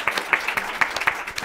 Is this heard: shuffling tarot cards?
no